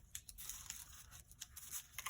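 Masking tape is trimmed off a handmade journal base, giving short, faint tearing and snipping sounds in quick succession, close up and without talk.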